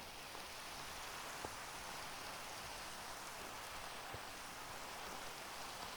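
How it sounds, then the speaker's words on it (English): Steady rain falls in the Minecraft Skylands, a constant even hiss of drops with occasional soft patters, filling the scene without any voices. "It's raining in the Skylands as it is."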